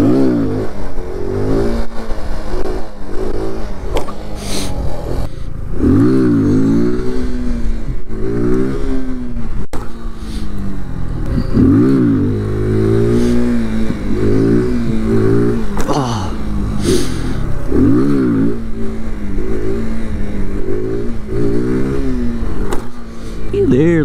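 A Honda Grom motorcycle revs repeatedly while being ridden in wheelies, the engine climbing and falling in loud, close surges through gear changes, with a rider talking over it at times.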